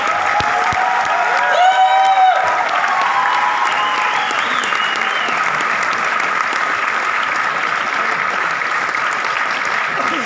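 Loud, sustained applause fills a seminar hall in Bandra, Mumbai, as guests are welcomed onto the stage, with a few whoops and cheers rising early over the steady clapping.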